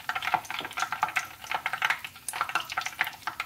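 Hot oil pops and crackles in a pan before frying chicken wings, with rapid irregular bursts of sizzling spatter and no talking.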